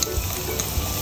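Garlic sautéing in olive oil gives a steady, close sizzle with light stirring scrapes for about a second, loud and continuous, with no voices.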